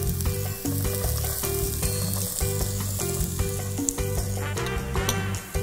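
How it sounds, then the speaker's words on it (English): Meat sizzles in a pan as its fat renders for a Bolognese sauce, a continuous close frying crackle under steady background music. "we have to render the fat in the meat"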